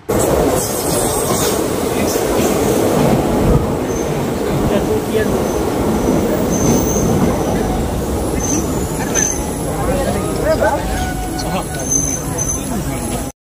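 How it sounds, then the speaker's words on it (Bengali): A local passenger train between Goalpara and Guwahati in Assam speeds along with a continuous loud rumble and rattle of wheels and carriages, heard from inside, with a person talking over it throughout. "আমাদের ট্রেনটা খুব দ্রুত গতিতে চলছে"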